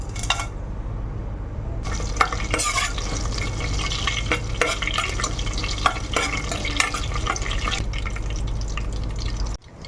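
Whole spices (cinnamon, cumin, cardamom, cloves and a bay leaf) crackle and spit in hot oil in a pan, a loud dense sizzle with sharp pops and stirring scrapes throughout, cutting out abruptly at the end.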